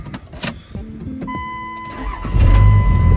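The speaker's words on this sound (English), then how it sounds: "Someone else starting my Camaro." A Chevrolet Camaro starts with a clicking and whirring crank, then the engine catches and settles into a loud, steady close idle.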